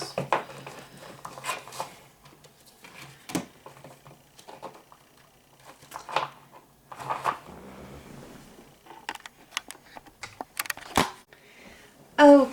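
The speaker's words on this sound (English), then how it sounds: "I actually flipped the deck upside down and shuffled upside down like this" Cards being shuffled with the deck held upside down, several short riffling and patting bursts separated by quiet gaps, close up and without talk.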